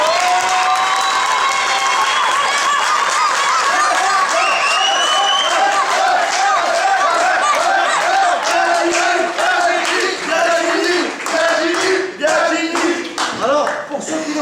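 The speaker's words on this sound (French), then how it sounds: "il est un petit tonnerre d'applaudissements" Crowd at an outdoor carp fishing competition breaking into loud sustained applause with cheering and shouting voices, dense clapping throughout with people calling out over it.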